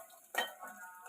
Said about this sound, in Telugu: అదే ఆయిల్లో మనం ముందుగా తరిగి పెట్టుకున్న ఆనియన్స్, పచ్చిమిర్చి వేసుకొని వేయించుకోవాలి